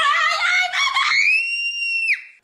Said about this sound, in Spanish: Mira cómo suelta ese grito